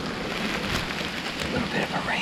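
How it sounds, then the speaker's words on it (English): Steady rain pattering down in a continuous hiss, with a faint low rumble underneath. "A little bit of a rain shower coming through."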